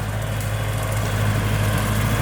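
A Kubota L4708 tractor mows grass in a palm and longkong orchard, its engine droning steadily at close range with a constant low hum and no talk.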